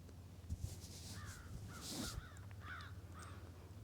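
Crows caw outdoors during a yoga session in nature, several harsh calls ringing out at moderate distance over a quiet background, some overlapping in short bursts.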